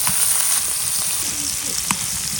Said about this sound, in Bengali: এখন গরম তেলে ভাজতে হইবে